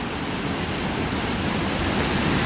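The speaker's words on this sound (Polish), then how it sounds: "No, przelatuje przez nią woda, jak widzicie." Water pours steadily through a small dam, a dense, even broadband rush like a miniature waterfall, close and continuous with no voices over it.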